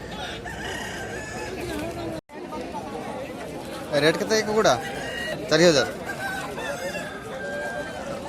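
Aseel roosters crow at a busy Tuesday Aseel rooster market in Odisha. Two crows rise over constant crowd chatter, and people talk and haggle close by throughout.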